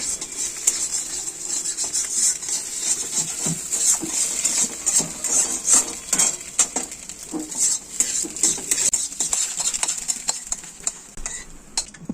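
Vegetables being finely chopped, a steady stream of close, rapid knife taps and scrapes running throughout at a fairly even level.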